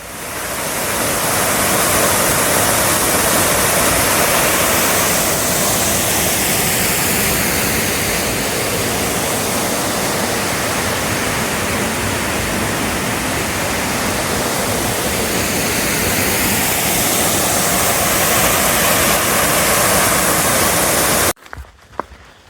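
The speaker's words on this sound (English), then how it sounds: "out of Long Creek Falls, which is a gorgeous waterfall" Long Creek Falls, a waterfall beside the Appalachian Trail, roars as a loud, continuous rush of water that stays even for about twenty seconds before cutting off abruptly, with a few handling knocks at the end.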